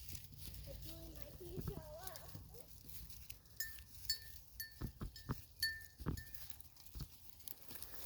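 A goat gives a wavering bleat in a backyard pen beside raised garden beds, followed by scattered knocks and light scuffs, with a person talking nearby.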